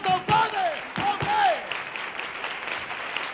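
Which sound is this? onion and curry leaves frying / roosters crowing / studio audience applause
studio audience applause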